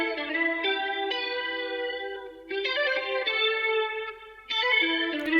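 Sampled guitar melody used in an afrobeat beat, bright plucked notes drenched in chorus and echo, playing a sustained phrase in three swelling sections, steady and fairly loud with no voices.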